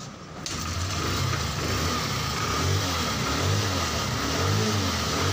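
A Honda CB125 motorcycle with a freshly cleaned carburetor starts up and settles into a loud, steady running rumble close by, with a slightly uneven throb throughout. No one speaks.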